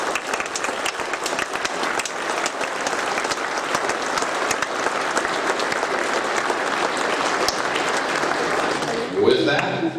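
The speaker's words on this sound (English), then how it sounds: "Let's give them one more round of applause." A banquet audience at a small-town high school athletic hall of fame evening applauds the inductees, a dense, steady round of clapping that fills the hall for about nine seconds before thinning out near the end.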